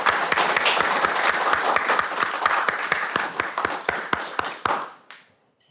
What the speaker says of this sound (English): we want to give them a round of applause and a hand clap for that